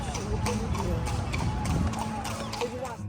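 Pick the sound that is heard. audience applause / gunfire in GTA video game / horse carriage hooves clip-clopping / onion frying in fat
horse carriage hooves clip-clopping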